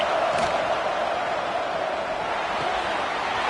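A packed stadium crowd at a football game roars in one continuous, deafening wall of cheering that holds steady from start to finish, with no pause or lull.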